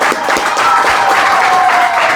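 Congregation applauding in church after a sermon, a loud, full burst of clapping filling the short stretch with no one speaking over it.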